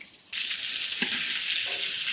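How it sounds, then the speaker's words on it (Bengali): Steady hissing sizzle of hilsa fish and green chillies frying in hot oil, starting abruptly and continuing loudly, with a brief clatter partway through. "ইলিশ মাছ ভাজা হইতেছে"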